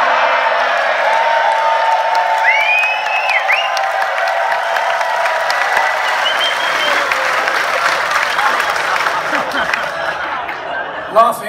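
Comedy club audience at a stand-up show laughs and claps, a steady wash of applause with chuckles mixed through, fairly close, before a voice returns at the very end.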